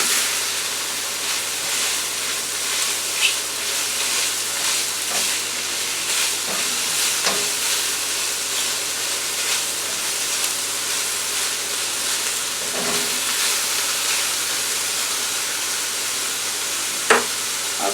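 Vegetables stir-frying in oil, Thai style, with jasmine rice on the side: a steady broad sizzle and hiss runs throughout, with occasional scrapes and clinks of a utensil against the pan, close and fairly loud, no voices.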